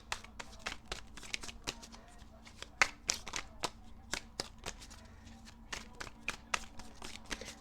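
Tarot cards riffled and shuffled by hand in quick bursts of crisp flicking snaps, close up and fairly quiet, with no voices.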